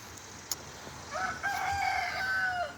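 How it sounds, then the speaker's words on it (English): A rooster crows loudly and sustained, with other chickens clucking around it, after a brief quiet stretch and a sharp click. "Got the new chickens moved again."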